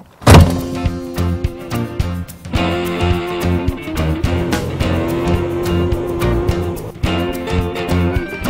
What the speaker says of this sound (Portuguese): Já começa pela porta aqui, que é bem pesada, precisa das 2 mãos para baixar ela.